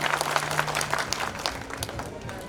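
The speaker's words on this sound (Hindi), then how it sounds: "पीसी भैया के लिए जोरदार तालियां।" A crowd applauds loudly at a Congress party political rally in Jawar, with dense, continuous clapping close by.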